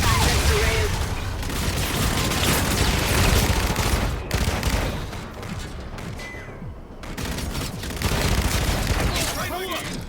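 A grenade explosion in the German-language PS4 game Call of Duty: Infinite Warfare, heard as a dense, roaring blast amid continuous gunfire and battle noise, with someone talking over it.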